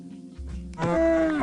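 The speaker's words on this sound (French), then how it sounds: "Petite vache." A cow mooing in Minecraft, one short, close, loud low moo that rises into a bright drawn-out call, with no talking.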